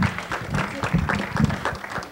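Applause from a church congregation, steady, dense clapping at moderate distance, mixed with some voices.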